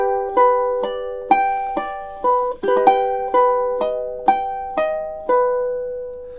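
A ukulele strums the opening two measures of a chord progression, softly and evenly, with clean plucked chords ringing out one after another, no voices.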